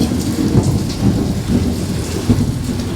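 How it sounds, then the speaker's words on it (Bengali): Heavy rain pours down outside, a dense, loud roar of drops on surfaces, with deep rumbles of thunder rolling through beneath it continuously and no voices. "বাইরে প্রচণ্ড বৃষ্টি হচ্ছে কথা বলতে পারছি না কথা বলছি আর মেঘ ডাকছে"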